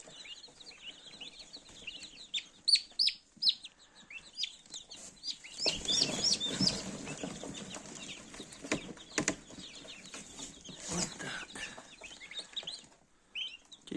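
Chickens cluck and freshly hatched chicks peep in rapid, high chirps close by as they are moved, with rustling and handling noises in between.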